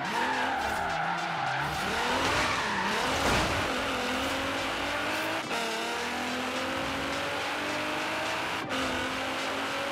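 Car drifting in Forza Horizon 3, with continuous tire squeal and skidding over a revving engine whose pitch rises and falls through the slides, loud and close with no talk.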